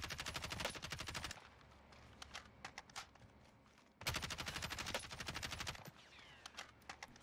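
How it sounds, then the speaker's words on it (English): Two bursts of rapid automatic gunfire trading in the video game Warzone, dense cracking shots with a quiet gap between volleys, fairly faint overall. "I like that he's trading shots with the enemy."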